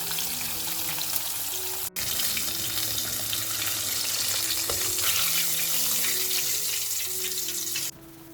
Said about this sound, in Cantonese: 就將炸過一次嘅豬扒放入去油裏邊進行復炸。